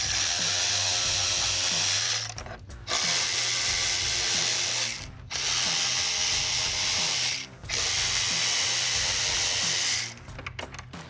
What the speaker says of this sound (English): Take a 7mm socket and ratchet and remove all 5 mounting screws.